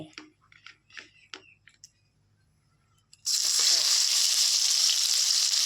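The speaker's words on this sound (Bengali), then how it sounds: "তেলটা একটু গরম হলে এটার মধ্যে কেটে রাখা পেঁয়াজ কুচি রসুন কুচি দিয়ে দেবো" Chopped onion and garlic drop into hot oil, setting off a sudden loud, bright sizzle that holds steady to the end, after a few seconds of soft clinks and handling noises.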